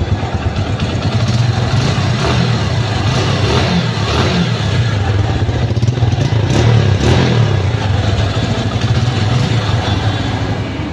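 A 2017 TVS Metro Plus 110cc motorcycle engine runs through its silencer at free throttle, a loud, steady, close-up thrum with slight rises in revs and no voices.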